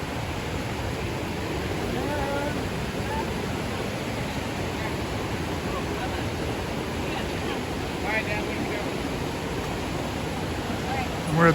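Waterfall at the top of a falls on the Big Island of Hawaii, a steady broadband rush of falling water filling the whole stretch, with a voice faintly present beneath it.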